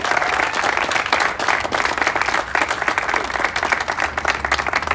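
Steady audience applause at a press conference, many hands clapping at once in a dense, even wash that holds at full strength for the whole stretch, with no voice rising above it.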